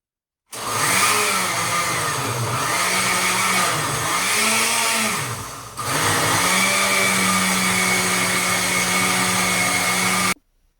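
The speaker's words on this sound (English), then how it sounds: "So here I'm gonna blend the pumpkin with some coconut milk." Blender whirring as it purees pumpkin with coconut milk, a loud motor drone that pulses and wavers in pitch for several seconds, briefly cuts, then resumes as a steady high whine before stopping abruptly.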